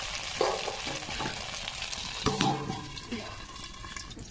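Slices of pointed gourd (patol) frying in a kadai, with a soft sizzle, a couple of louder stirring knocks and some faint watery clatter, heard close but at low volume.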